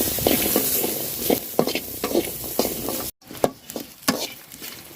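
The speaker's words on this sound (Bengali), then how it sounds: "পেঁয়াজ মরিচ তারপরে রসুন সব দিয়া দিলাম বাজা নিব সুন্দর করে" Onion, chili and garlic sizzle in a pan used for dried chepa shutki fish, with repeated scraping stirs cutting through a steady close frying hiss and a brief silent gap midway.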